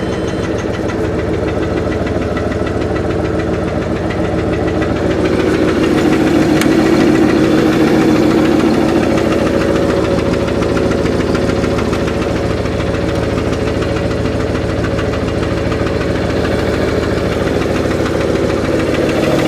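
A revived Rolls Royce engine runs at a steady idle, with a loud, even mechanical rumble and faint knocking vibration continuing throughout as the carburetors fill.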